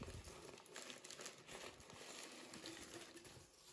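Wrapping paper crinkling and rustling as a porcelain parcel is unwrapped, a quiet, continuous close-up crackle with no talking.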